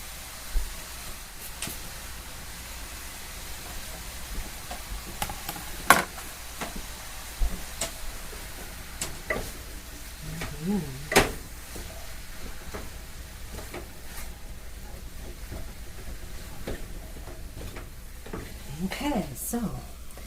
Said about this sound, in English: so it's sizzling away